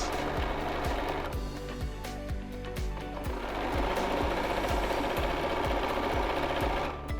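A sewing machine runs steadily, stitching a decorative stitch over quilt binding, with rapid, even needle strokes close by and no break in the whirring drive.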